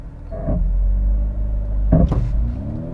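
A 2021 Honda CR-V Hybrid engine with eCVT transmission rumbles loudly and close, holding a deep idle drone during a brake-boosted launch before revving up sharply, then settling back into a throaty hum.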